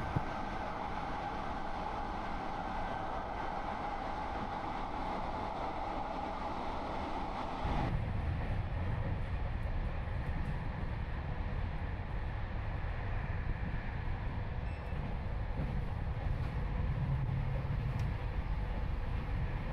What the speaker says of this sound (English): at the front, our Prima 2 class E1400 pulling the train